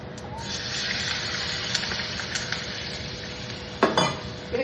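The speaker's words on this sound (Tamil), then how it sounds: "அந்த தண்ணியை அதுல விட போறேன்." Water hits a hot pan with a loud, steady sizzle and hiss, close up, with a few sharper splashes near the end.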